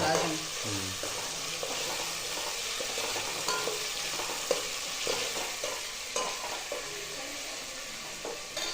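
Spiced Maharashtrian masale bhaat with whole masoor lentils added straight in, frying and being stirred in a pan: a steady close sizzle with repeated scraping stir strokes, no talk.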